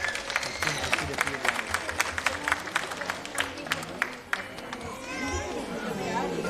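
Parents clap for a nursery-class performance at a school presentation, a moderately faint, busy patter of applause with crowd chatter and children's voices mixed in.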